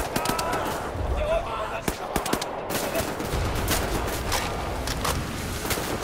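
Sustained gunfire from the Wolfenstein: The New Order shooter, a busy run of sharp shots and clattering bursts over a steady rumbling din, with a voice talking over it.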